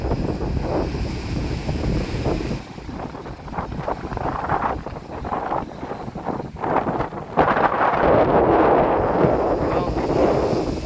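Strong monsoon wind roars steadily across the microphone, buffeting in gusts with a heavy rumbling, surf-like rush that swells louder near the end.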